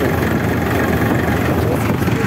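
Multicrop thresher driven by a New Holland 4510 tractor, a loud continuous engine-and-machinery roar running steadily at close range, with no clear talk.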